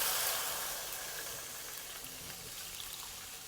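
About 1.2 liters of water is poured into a cooking pot with browned chicken for Chinese hua tiao chicken noodle soup, a steady close hiss and splash that gradually softens.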